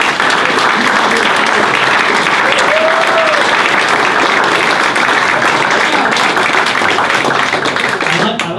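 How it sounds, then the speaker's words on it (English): Sustained, dense audience applause fills the room after a science talk on mountain pine beetles at a bar science event, steady and loud throughout with a faint murmur of voices. "I like that I didn't even have to ask for a round of applause."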